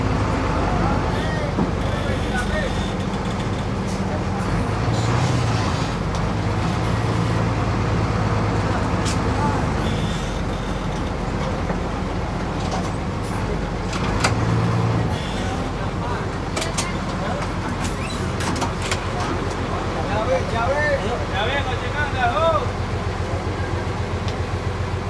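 Inside a moving bus on the road, a steady low engine and road rumble fills the cabin with rattles and squeaks throughout, while a person talks over it at times.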